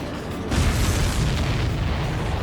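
A supply ship exploding in the Ace Combat 7 video game: a heavy, roaring blast swells in and holds as a dense, sustained rumble, loud and close, without voices.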